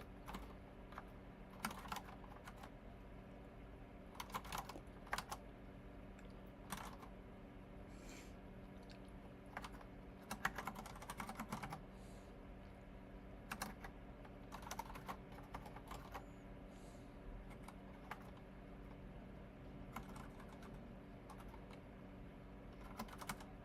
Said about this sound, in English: trying a new keyboard, which is making me increasingly more frustrated, like, every time I type.